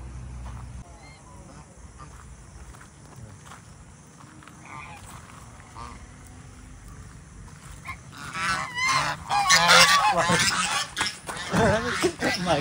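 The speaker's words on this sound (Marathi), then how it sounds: "या हॉटेलला एकदम छान बदक आहे।" Ducks at a hotel honk and cackle loudly in a burst of agitated calls during the second half, rising over a quieter stretch of low background noise and murmur.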